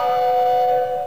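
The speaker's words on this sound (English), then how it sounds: "we have such things as the steamboat whistle" The steamboat whistle effect of a Wurlitzer style 260 fairground organ, Opus 1813, gives one brief sustained tone that is loud and steady and heard alone.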